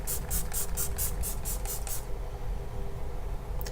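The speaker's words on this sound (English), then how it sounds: "it sprayed on top of foundation and powder just fine" A rapid series of about eight short, hissing bursts of makeup setting spray, evenly spaced, followed by a pause and the start of one more burst at the end.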